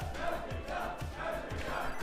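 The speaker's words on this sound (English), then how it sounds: "the crowd is just going crazy" Crowd at a Classic Tetris World Championship final roaring and shouting wildly, a dense sustained wall of cheering voices with rhythmic surges, loud and continuous throughout.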